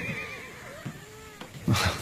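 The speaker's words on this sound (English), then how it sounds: "The horses are out of control." A horse whinnies, its wavering call rising and falling, followed by a louder snort or neigh at the end, fairly close.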